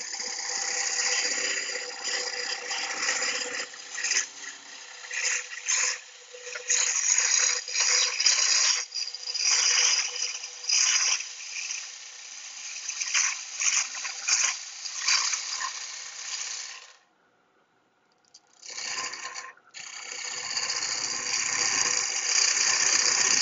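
A gouge cuts end grain on a wooden bowl spinning on a wood lathe, giving an uneven, scraping rattle of bursts and pauses with a brief silent gap before the cutting resumes.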